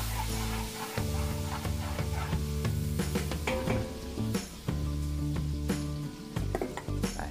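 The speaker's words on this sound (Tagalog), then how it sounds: "magigisa na po tayo ng sibuyas at bawang." Onion and garlic sauté in a hot pan for a Filipino fiesta dish, sizzling loudly and steadily, with stirring scrapes and occasional clinks of the utensil against the pan.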